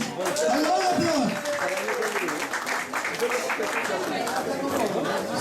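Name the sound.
loud applause at a reunion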